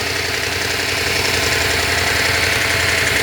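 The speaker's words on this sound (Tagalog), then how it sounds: "So maingay pa yan kasi wala pang langis yung mga valve lifter." A Lexus 3UR engine idles loudly up close after an overhaul, with a rapid, steady ticking clatter from valve lifters not yet filled with oil running through the rumble.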